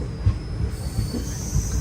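A Kachiguda–Kottayam special train pulls into Ernakulam Town with a close, heavy rumble and evenly spaced wheel thumps, while a faint high squeal rides on top.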